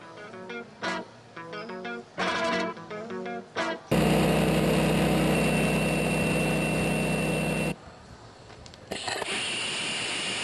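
A rocket-powered bicycle with three rocket motors roars loudly for about four seconds of sustained blast, cutting off abruptly between shorter bursts of other sound.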